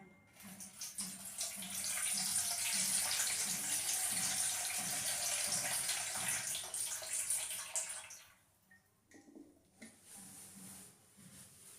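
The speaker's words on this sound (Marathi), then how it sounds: "त्यामध्ये आपल्याला पाणी टाकायचं आहे" Water poured steadily into a wide pot of gram-flour dhokla batter, a loud continuous gush for about eight seconds that then drops to quieter trickles and splashes.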